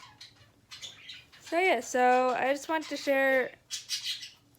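Pet birds chirp and squawk in short, high, bright bursts close by while a person talks over them indoors.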